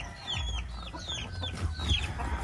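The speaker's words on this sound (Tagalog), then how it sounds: "Ito yung mga manok namin" Chickens kept behind a house cluck in short, repeated bursts against low background rumble, moderately close but fairly quiet.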